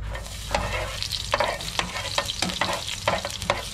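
Garlic frying in a pan, with a steady sizzle broken by repeated scraping stirs of a utensil at close range and no voices.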